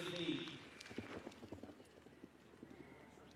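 Hoofbeats of a horse galloping cross-country at the Burghley eventing competition, a quick run of clip-clop strikes at middle distance beneath a commentator talking, with crowd ambience in the background.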